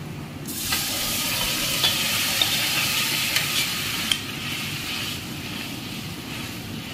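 Cooked lentils sizzle and fry in a pan with fried onions, a steady loud hiss broken by a few sharp clicks of stirring, with no talking.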